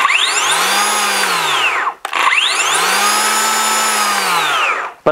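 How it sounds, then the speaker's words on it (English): A Makita 18V cordless electric chainsaw with a 10-inch bar whines at a high steady pitch, running in two long bursts with a brief pause between them. "That's not what I'm used to hearing from a chainsaw."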